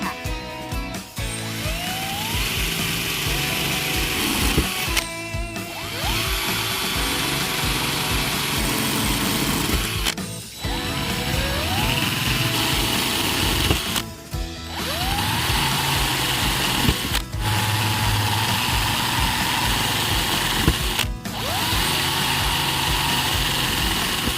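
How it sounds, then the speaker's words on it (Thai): An electric drill bores holes through old PVC pipe in several separate bursts, each a steady high whine with short pauses between, close and fairly loud. "เจาะท่อ PVC ให้เป็นรู"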